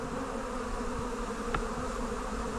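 Honeybees buzz around an opened hive during a split for swarm prevention, a steady dense hum of many insects close by, with a brief sharper buzz of one bee passing near the microphone.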